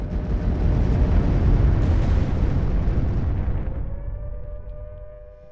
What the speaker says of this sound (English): Do I just carpet bomb this?